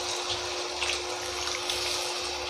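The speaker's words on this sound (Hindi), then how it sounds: "अब इस स्टेज पे आपको बिल्कुल ऐसी स्टेज पे आपको 1 कप पानी डालना है" Water is poured into chicken curry gravy in a home kitchen, a steady close splashing trickle heard alone.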